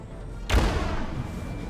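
A single heavy gunshot-like boom from a video game, followed by a sustained noisy rumble and crackle that lingers to the end.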